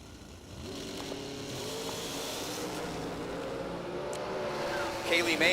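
Drag racing at a professional event with a Jegs dragster in the right lane: a loud, continuous engine roar rising in pitch as the car launches down the strip, with a steady engine drone and a louder burst at the end.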